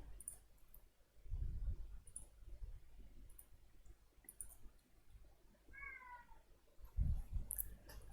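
A pet cat meows eagerly as its dinner time nears, a couple of short calls with soft clicks and rustling nearby in a quiet room.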